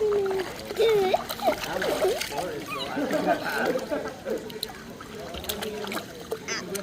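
Water splashes and sloshes as a dog paddles, with people talking and exclaiming over the splashing throughout.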